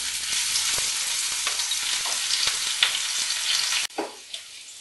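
Spices, onion and green chili paste sizzle steadily in hot oil for a curry, with a constant dense frying hiss and occasional stirring clicks, then a brief pause and softer sputtering at the end.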